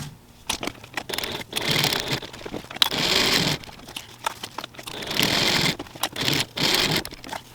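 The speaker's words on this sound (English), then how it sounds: "Now I'm going to stitch across the short sides of the connectors at 1/4 inch seam allowance." A sewing machine stitches across the short-side seams of backpack connectors at a quarter-inch allowance, running in several close, loud, steady whirring bursts separated by brief pauses and fabric handling.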